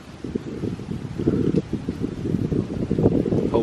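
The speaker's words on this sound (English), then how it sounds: "Oh, that wind." Cold wind gusting across the microphone on a winter hike at Millstone Bluff in Shawnee National Forest, a steady rough rumble with surging gusts throughout, near and fairly loud, with no talking.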